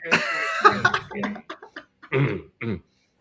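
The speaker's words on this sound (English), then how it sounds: "She's been clearing her throat for the last 5 minutes" A woman clears her throat and coughs in a cluster of short, rough bursts near the start, followed by a few brief throaty sounds, then quiet.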